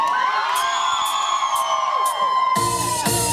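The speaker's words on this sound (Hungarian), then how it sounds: "Háromra kérek egy hatalmas visítást" A live concert audience lets out a big shrill squeal on cue, a loud burst of high crowd screaming that rises over the ongoing band music.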